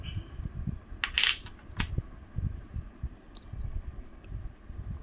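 Indian coins are handled close up: a couple of soft metallic clinks and light taps over a low, quiet background rumble, with no speech.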